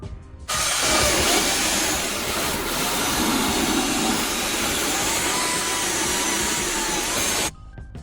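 A power drill spins a brush attachment against the carpet of an Alfa Romeo Giulietta, producing a loud, steady whirring and scrubbing hiss that starts abruptly and runs unbroken for about seven seconds before stopping, with no speech.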